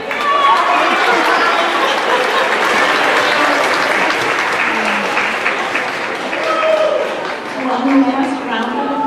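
Audience at a school awards ceremony applauding, a thick, sustained roar of clapping with cheers and chatter mixed in, loud and continuous throughout.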